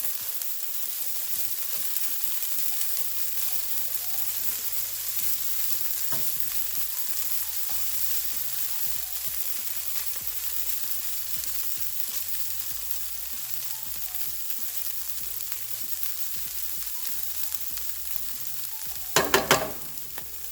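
Black beans and caramelized vegetables for a veggie hash sizzling in a frying pan, a steady soft frying hiss with faint stirring and a short burst of clatter near the end.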